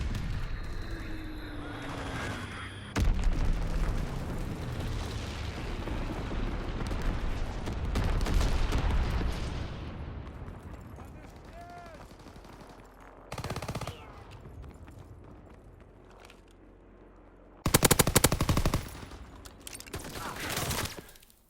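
Call of Duty WWII gameplay with Fritz X bomb drops and gunfire: bursts of rapid fire and heavy booming blasts, with loud impacts early on and another burst near the end, separated by quieter rumbling stretches.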